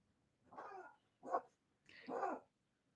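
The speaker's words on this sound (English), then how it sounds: "Django's back there barking" A dog named Django gives three separate barks, slightly muffled as if from another room, with short silent gaps between them.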